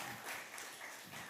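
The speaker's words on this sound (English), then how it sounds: "You got applauded just for showing up." A church congregation applauds newcomers at a Sunday morning service, with soft, steady clapping from across the room that stays fairly faint and even.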